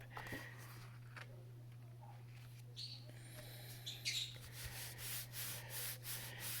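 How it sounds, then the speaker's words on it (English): An acrylic stamp is rubbed onto paper, giving soft, close rubbing and scuffing strokes that come in short bursts over a low steady hum, with faint bird chirps in the background and no talk. "Just rub it. Rub it on."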